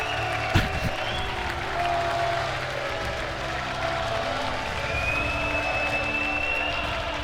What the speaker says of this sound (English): look at the crowd going absolutely crazy